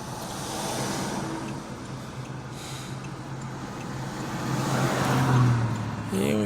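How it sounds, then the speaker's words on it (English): Steady road traffic on a town street in McKeesport, Pennsylvania, with cars rolling past at moderate distance and one vehicle swelling louder toward the end, a continuous mid-level wash of tyre and engine noise. "Yeah, we got some traffic."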